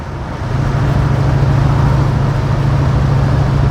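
A 1969 Pontiac GTO with a Tremec manual transmission cruising in fifth gear, a steady low engine drone with road rumble rising in at the start, then holding constant, no voices.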